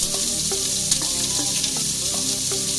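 Duck breast fries fat side down in a pan with a steady, loud sizzle and scattered spits and crackles throughout.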